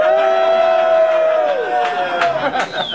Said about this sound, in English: People who thought Stugotz was taller, cheer.